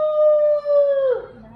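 A dog howls during a Kannada comedy stage play: one long, loud, steady howl close by that slides downward and fades at the end.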